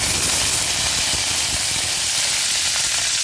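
Mustard seeds spluttering in hot oil while tempering for paruppu rasam, a dense steady crackling hiss close up, continuous and loud with no talk.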